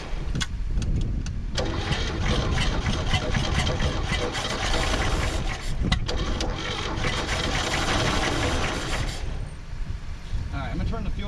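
A 1962 Chevy Biscayne engine that sat over 40 years in a farm field runs steadily after a fuel pump repair, a loud, constant rough drone with some clattering, fading slightly near the end.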